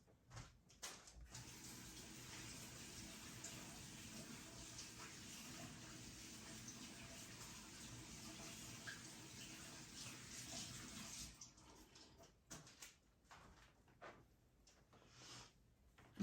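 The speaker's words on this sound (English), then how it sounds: "while that's spinning, I'm going to quick wash my hands" Water from a tap runs steadily for about ten seconds while hands are washed beneath it, then shuts off, leaving a few faint drips and rustles.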